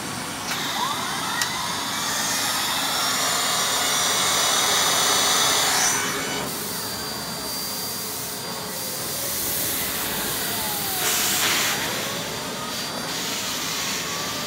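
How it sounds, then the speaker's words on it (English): Miele Blizzard vacuum cleaner with its turbo brush fitted, running on carpet: a loud, constant roaring whoosh close by that swells and eases slightly as the head is pushed back and forth. "So let's pop the turbo brush on."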